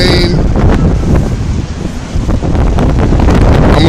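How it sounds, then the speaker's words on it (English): Strong blizzard wind in Revere in 2013 buffets the microphone with loud, continuous roaring gusts that rise and dip throughout, like heavy surf, with no break in the noise. "Man, this wind is insane."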